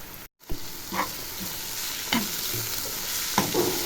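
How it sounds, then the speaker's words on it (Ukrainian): Onions sizzle steadily in a hot pan, broken by a few scraping stirs of a utensil, close and continuous with no talking. "підсмажую цибульку, готую підсмажку."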